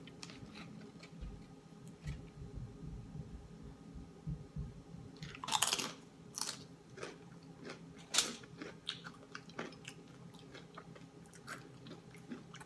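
Someone eating Doritos Nacho chips up close, with soft chewing, crunching and smacking throughout and a few sharper bites standing out, in an otherwise quiet room.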